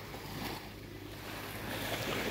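Calm sea with very small waves lapping at a beach under light rain, heard as a steady, soft wash of surf with faint wind and no voices.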